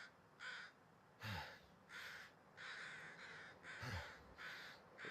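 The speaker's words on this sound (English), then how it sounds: "there's crows over here, or ravens. Ravens, crows, carrion birds over a corpse" In the game The Long Dark, crows or ravens gather as carrion birds over a corpse and give a string of about seven harsh caws in an uneven rhythm, set apart but faint, above quiet outdoor ambience.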